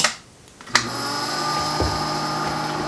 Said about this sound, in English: we'll hook up our vacuum filler. What we're going to do is pull a vacuum on this first.